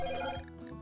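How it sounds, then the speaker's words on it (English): A phone rings with a steady electronic ringtone under a quiet indoor background, a bright repeating tone filling the short stretch with no pause. "Oops, sorry, that's my phone."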